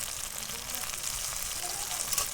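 Onion, ginger-garlic paste, tomato and salt fry together as a masala in a pan, giving a continuous dense sizzle at steady loudness with light stirring noises throughout.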